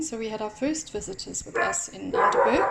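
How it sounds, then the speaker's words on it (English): A dog barks in short bursts at a home in Underberg, the barks mixed in under someone speaking close by. "Excuse the dog barking"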